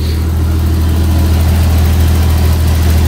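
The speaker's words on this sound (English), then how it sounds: "Have a look at this engine while it's warmed up now" A Jaguar XJS pre-HE engine, warmed up, idles steadily at close range, a smooth, even low rumble with no revving or voices throughout.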